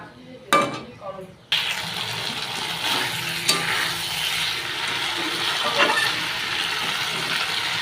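Water poured into spices frying in oil for a thin fish curry, setting off a loud sustained sizzle that starts suddenly after a few brief clatters and keeps hissing steadily.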